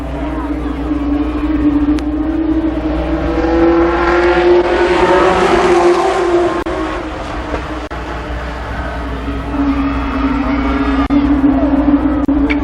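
Limited Sportsman race cars roar around the Columbus Motor Speedway oval during an 8-lap heat race in 1993, a steady loud engine drone swelling as the pack passes, with crowd noise and an announcer talking over it.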